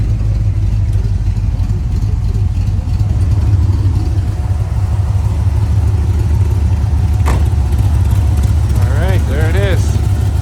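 A 1966 Corvette with a 327 V8 and four-speed manual, running at a steady idle close by with a deep rumbling pulse; a short sharp noise and some warbling tones appear near the end.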